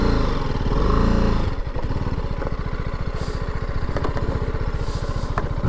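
Light motorcycle running on a Devon country lane, a steady close putter that rises in a brief rev before settling into rapid even engine pulses, with no talking.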